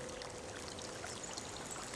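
A synthesizer plays a water sample, a dense, steady rushing wash like a flowing stream that holds at an even level throughout, with no voices.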